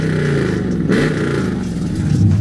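A car with high flow cats and long tube headers on its exhaust revs up close and loud, a deep throaty rumble rising and falling in short bursts.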